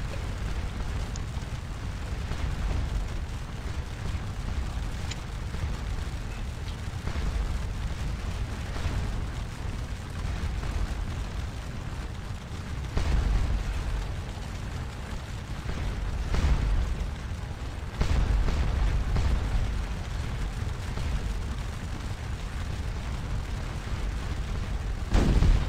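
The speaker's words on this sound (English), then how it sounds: "Artillery is still getting off great shots, though." Continuous rumbling artillery barrages on a Napoleonic battlefield at Ligny in the Waterloo strategy game Scourge of War, a steady low roar with a few louder booms standing out, no talk.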